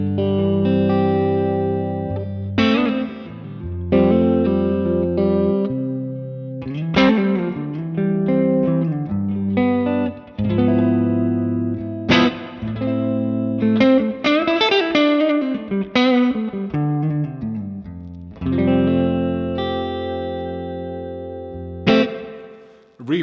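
Electric guitar played through a multi-effects pedal with gain and reverb, distorted chords and picked phrases ringing out with long reverberant tails, loud and continuous with no talking.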